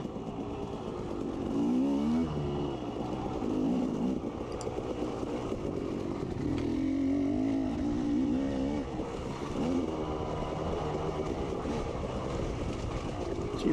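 Off-road motorcycles racing over a rough extreme course with braking bumps, engines revving up and down in repeated surges close by, a continuous buzzing roar with shifting pitch and no talking.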